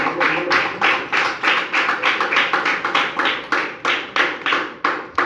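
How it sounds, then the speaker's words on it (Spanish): A church congregation claps together in a steady, even rhythm, loud and close, with the beats evenly spaced and no talking. "Da una fuerte ofrenda de aplauso al Señor"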